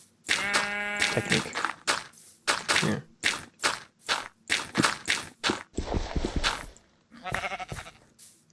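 Minecraft sheep bleat repeatedly in short, sharp bursts near a dirt hill, interleaved with soft footstep and block sounds, with a brief spoken word in between.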